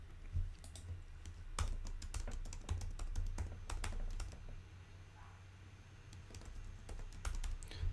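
Rapid typing on a computer keyboard while saving a Maya 3D modelling project, a steady run of close, crisp key clicks and taps with no talk over it.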